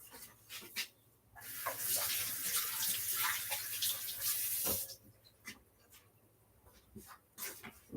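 Tap water runs steadily into a sink for a few seconds while limes are washed under it, preceded and followed by light handling clatter; a dog whimpers faintly nearby.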